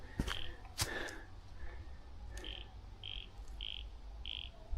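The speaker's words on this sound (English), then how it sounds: "Hear the frogs?" Frogs calling outdoors near a creek bank on a late afternoon, giving a series of short, evenly spaced high chirps that repeat about every half second over a low background hum, with a few brief knocks near the start.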